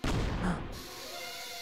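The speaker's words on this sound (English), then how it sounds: "Oh no, a bomb." A bomb explodes in DuckTales Remastered, giving one loud broadband boom at the start that decays over about a second into a softer rumbling tail. No voices are heard.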